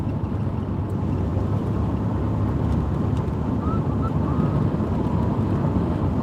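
Steady low road rumble and wind roar from a car cruising on a highway, continuous and close with no break, no talk over it.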